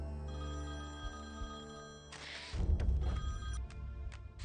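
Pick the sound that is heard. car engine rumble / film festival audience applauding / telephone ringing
telephone ringing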